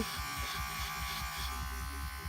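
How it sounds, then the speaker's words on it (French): Electric clippers shaving hair for an undercut hum with a close, steady buzz that pulses unevenly as the blades move against the head, heard alone without talk. "C'est parti, le rasage en direct."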